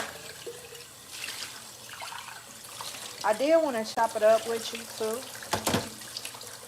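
Water runs steadily from a tap in a home, a continuous soft hiss beneath a person talking, with a few splashes near the end.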